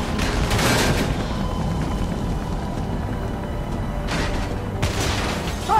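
Gunfire in the video game Beyond: Two Souls, with dense bursts of shots and booms in a loud, continuous barrage and heavier blasts standing out near the start and again toward the end.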